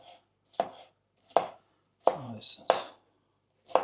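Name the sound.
chopping bell peppers thinly with a knife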